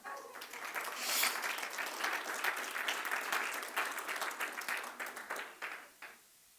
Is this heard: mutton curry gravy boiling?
no